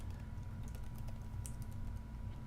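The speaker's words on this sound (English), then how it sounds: "I'm going to type it here in the chat." Quiet, quick keystrokes on a computer keyboard, typing into a chat over a steady low hum.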